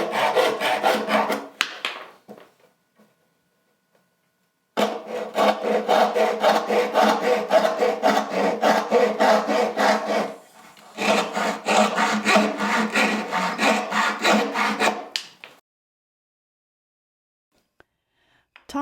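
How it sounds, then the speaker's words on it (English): Hand saw cutting a wooden spatula blank on a sawhorse: long runs of rapid, even rasping strokes, close and loud, stopping briefly between bursts and ending in silence. "he needs to saw this a little more gently because it's flexing a little bit and it's hanging off that sawhorse"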